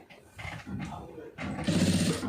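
A sewing machine stitches a folded cloth hem in a short, rapid mechanical burst near the end, after a stretch of speech.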